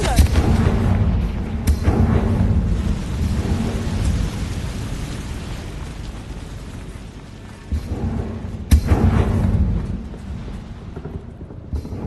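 Confringo spell blasts in the video game Hogwarts Legacy: repeated sharp booming impacts that roll into rumbling, rain-like crackle, with strong hits near the start and again later, loud throughout.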